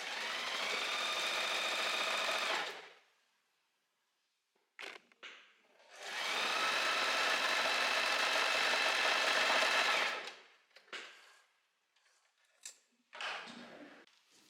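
A home sewing machine runs long gathering stitches at stitch length 4 with the needle moved right, making two sustained whirring bursts of about three and four seconds separated by quiet handling clicks and small mechanical taps.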